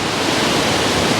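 A loud waterfall on the Zambia–Zimbabwe border, swollen with heavy water flow, gives a steady, dense roar of rushing water that fills the whole moment without a break.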